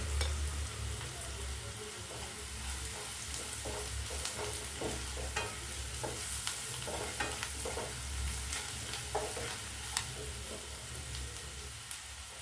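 Oil sizzles steadily in a pan as chili powder and spices fry, with occasional scraping and stirring clicks over a constant crackling hiss.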